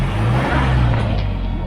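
A Mahindra Bolero's engine runs after being push-started on an icy mountain road near Tungnath at about -8°C, a loud steady low rumble that swells slightly as it revs, close by and with no talking.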